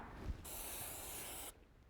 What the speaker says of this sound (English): Spray the degreaser onto the chain